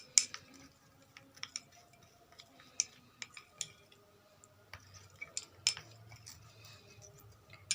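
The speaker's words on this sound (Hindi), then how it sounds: "अब इसे अच्छे से आप मिक्स कर लेंगे ऐसे" Coffee and rose water face mask stirred in a bowl, with light clinks and scrapes of a spoon against the bowl, irregular and close, and quiet between strokes.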